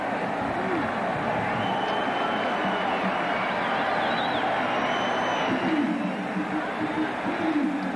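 A huge college football stadium crowd of over 77,000 at a Florida State versus Miami game rumbles as a steady, broad roar with a swelling murmur toward the end.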